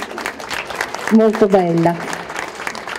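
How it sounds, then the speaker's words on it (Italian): Audience applause for a young body painting model at a body painting festival, a moderate patter of clapping running throughout while a voice speaks briefly over it. "facciamole un applauso perché è giovanissima"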